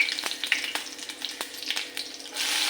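Curry leaves crackle and spit in hot oil with mustard seeds and cumin, a dense near sizzle dotted with sharp pops and ticks, swelling into a louder hiss at the end.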